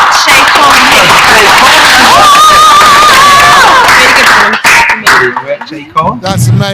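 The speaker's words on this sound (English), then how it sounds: "So a big clap, Shay Kaur." A school RSE Day audience claps and cheers loudly and continuously, with whoops and raised voices mixed into the dense applause, which breaks into scattered claps and noise near the end.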